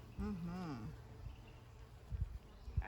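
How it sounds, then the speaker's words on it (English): Honeybees buzz on a hive frame with a low, steady drone close by, while a person talks over it and a few soft knocks follow. "there's a bee right in here that's trying to come out of a cell."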